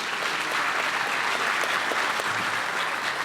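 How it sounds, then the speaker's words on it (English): Applause for city commissioners at the Weslaco State of the City address, a full, steady roar of clapping from a large audience, close and loud, unbroken for the whole stretch with no talk. "let's give a round of applause to our city commissioners for all the hard work that they do"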